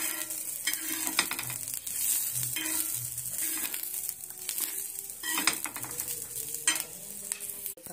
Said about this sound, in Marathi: मिरची अशी भाजत आली की त्यात आपल्याला 7 ते 8 लसणाच्या पाकळ्या घालून घ्यायच्या आहेत। त्याही या तेलासोबतच असं परतून घ्यायचं।